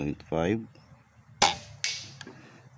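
An air rifle firing at 900 fps sends a pellet into a target at 60 meters: a sharp crack is followed moments later by a faint thwack of impact, with someone speaking briefly just before.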